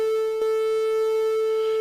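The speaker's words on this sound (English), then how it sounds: "a pulsating square wave" A modular synthesizer plays a pulsating square wave through a bit crusher, a loud, steady buzzing tone with stacked bright overtones and a brief click near the start, sounding alone without speech.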